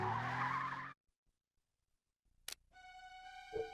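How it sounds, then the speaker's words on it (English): A car in The World Is Not Enough N64 game tears away with a short tire screech after a cut to near silence, followed by steady tonal game audio. "And a super cool car goes driving off real fast."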